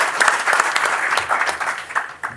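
Audience applause at a tax congress, close and lively clapping with distinct individual claps that swells, then tapers off near the end.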